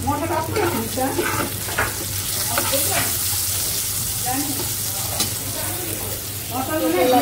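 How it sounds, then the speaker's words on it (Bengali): Pointed gourd (potol) fries in oil in a pan, giving a steady, close sizzle with repeated stirring and scraping throughout. "পটল ভাজি করছে"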